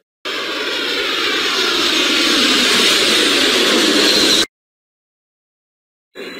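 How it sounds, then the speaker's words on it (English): Airplane jet engine roaring loud and steady at close range, a broad rushing whoosh that holds for about four seconds and then cuts off abruptly into silence. "Planes can fly very fast."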